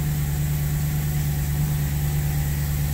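A BMW car engine idles steadily with a low, even rumble and hum, running continuously without change.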